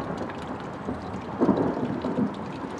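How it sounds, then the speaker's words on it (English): Low thunder rumbles softly during a thunderstorm, swelling briefly midway through under a steady hiss of rain. "it's taking a while for the thunder to get here"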